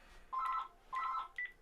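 A telephone gives short electronic tonal bursts, two longer rings and then a brief third, quiet and close with no voices over it.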